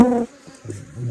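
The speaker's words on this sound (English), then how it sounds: "There's a lot of buzzing." Honey bees buzzing close by during a hive inspection, a loud whirring drone that dips briefly and then swells again as insects pass near.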